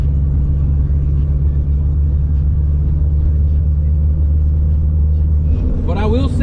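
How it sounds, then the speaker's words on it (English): A turbocharged K20-powered Honda Civic, converted to all-wheel drive and making about 600 hp, driven around a block, giving a steady low engine drone and road rumble from inside the cabin, with a brief burst of other noise at the end. "I'm driving the car around the block one more time"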